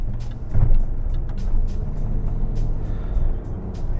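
Steady low rumble of a car driving along the road, heard from inside the cabin, with faint clicking ticks over the constant road and engine noise.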